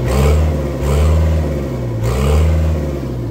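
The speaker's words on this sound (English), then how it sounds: "All right, the motor sounds great." A 2005 CAT 416D backhoe loader's diesel engine runs steadily up close, its low mid-range drone rising and falling through a few gentle revs with a faint mechanical whir.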